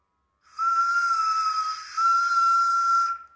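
Someone blows across the opening of a small medicine container like a flute, producing a clear, breathy whistling tone that holds steadily for about three seconds with a slight dip in the middle, close and alone.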